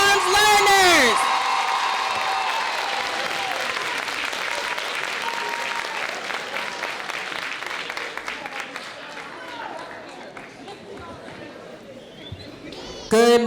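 Applause from families gathered at a Toby Farms Intermediate School event, loud and sustained clapping with scattered cheers and whoops, fading slightly, with talk mixed in at the start and end.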